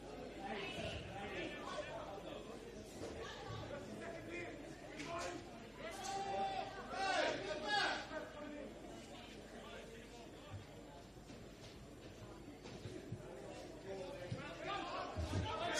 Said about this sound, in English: See the crowd here tonight watching this game.